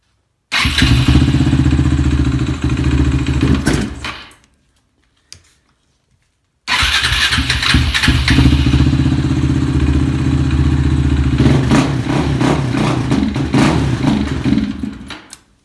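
Suzuki LTR450 ATV engine running loud and close, revving roughly and sputtering when throttled, then cutting out to silence for about two seconds before firing back up and continuing to sputter unevenly.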